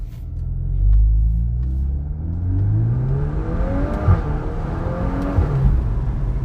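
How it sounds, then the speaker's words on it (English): A 2024 VW Golf 8 R runs along with its engine climbing through the revs. The exhaust gives a deep, continuous rumble and burble, with a couple of faint pops near the end. "I can tell now it's starting to burble a bit as well"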